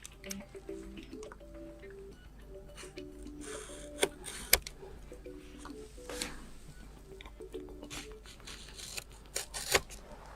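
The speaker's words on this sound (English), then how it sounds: "So I'll just get my knife and cut it." A knife slits the small tape seals on a Samsung Galaxy A17 5G retail box, giving quiet close scratches and soft rustling with a couple of sharp snicks as the blade cuts through.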